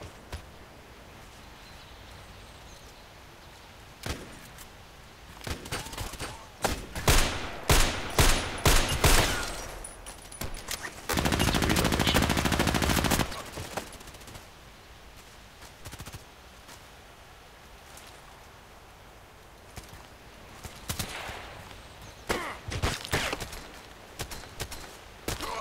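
Video-game gunfire rings out in rapid bursts and scattered shots, with a sustained loud volley partway through and quieter pops later. Ambient outdoor game sound runs between the bursts.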